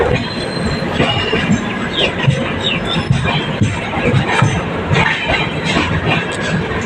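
A train rumbles steadily nearby in a railway coach maintenance shed, with metallic clanks and brief wheel squeals over a continuous heavy mechanical roar.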